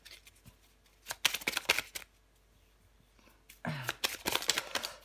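Tarot cards being shuffled by hand in two quick flurries of crisp riffling and flicking, close and fairly quiet with a pause of near silence between them.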